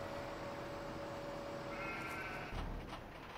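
A couple of faint sheep bleats in the video game Farming Simulator 15 rise over a steady low background hum, with no talking.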